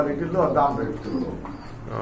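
Pigeons at a crowded pigeon market cooing in a low, continuous murmur close by, mixed with people talking throughout.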